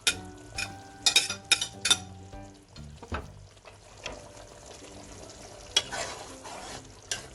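Chicken with three or four chopped green chilies stir-fried for a restaurant-style white chicken karahi, with repeated sharp scrapes and clanks of a utensil against the pan over a steady sizzle, close and fairly loud, no talking.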